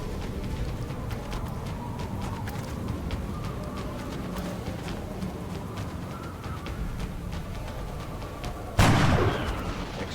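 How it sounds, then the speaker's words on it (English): Gunfire and artillery rattle continuously in a turn-based XCOM firefight, a dense mid-distance clatter of shots. Near the end a single sharper, louder blast cuts through. "Incoming fire"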